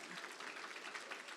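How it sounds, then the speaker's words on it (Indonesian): Audience applause at a seminar, a short, dense burst of many hands clapping, faint and somewhat distant. "yang paham tepuk tangan dong"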